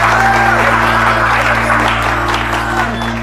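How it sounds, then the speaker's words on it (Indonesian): Audience applause greets comedian Kemal Palevi at a stand-up comedy show, a steady wash of clapping over a low hum with faint voices mixed in. "Tepuk tangan untuk Kemal."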